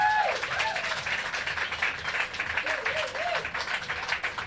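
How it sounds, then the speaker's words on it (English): An audience applauds performers at the close of an evening event, moderate, steady clapping throughout, with a few brief whistles or cheers rising over it. "I would like to take a moment to give a big round of applause to all the"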